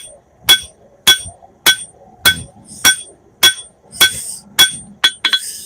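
Hammer forging the rough bevels of a sword blade on an anvil: about ten sharp ringing metallic blows at an even pace, close and loud, with short clinking rebounds after some strikes.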